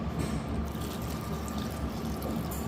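Water poured for a homemade vegetable juice, a soft continuous liquid trickle and pour at low level, steady throughout with no talking.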